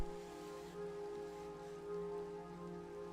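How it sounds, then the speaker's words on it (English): Rain falls in modded Minecraft as a soft, steady hiss of drops on surfaces, faint and continuous, laid over a quiet game ambience with a low sustained tone and no talk. "Right quick, I hear rain."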